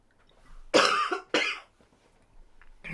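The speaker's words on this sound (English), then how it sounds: "Sorry, I'm still coughing" Two sharp, close coughs in quick succession in a quiet room, followed by faint soft noises.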